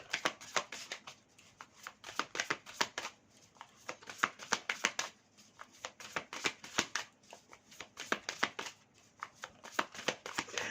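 Tarot cards shuffled by hand for a reading, a close, steady run of crisp riffles and papery slaps repeating for about ten seconds with no talking.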